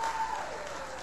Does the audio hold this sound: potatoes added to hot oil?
no